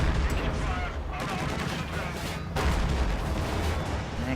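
Gunfire rakes infantry in a tank battle video game, with dense rattling bursts of shots over continuous rumbling battle noise and faint talk beneath.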